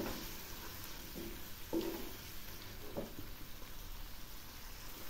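Chilli powder, Kashmiri chilli powder and coriander powder fry in oil for a chitol fish curry, making a faint, steady low sizzle with a few soft stirring scrapes and no speech.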